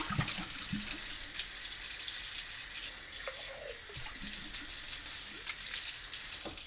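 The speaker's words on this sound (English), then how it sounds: "I'm just going to give my beans a really good rinse. And I'm going to give my jar a really good rinse." Tap water running steadily while moong beans and a jar are rinsed in a sink, a close continuous hiss with occasional soft clinks and knocks, no talk.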